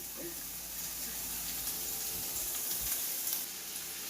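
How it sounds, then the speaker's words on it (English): Onions sweating in a hot pan give off a steady broadband sizzle with faint hiss, continuous and close, with low kitchen clatter underneath. "we're going to take our onions. And we're going to start to sweat that down. Oh, you hear that? You hear that sizzle,"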